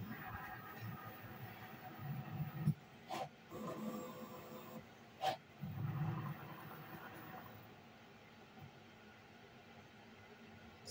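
Cricut cutting machine working through a panda sandwich design, a faint, steady mechanical whir with soft carriage movements and a couple of sharp clicks, quiet and close.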